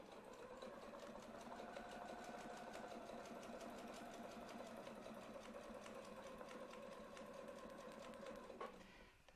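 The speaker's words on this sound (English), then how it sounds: "and we're going to sew the next one." A domestic sewing machine stitching steadily, a fast even mechanical whir and tick that runs continuously at close range until it stops near the end, with no talk.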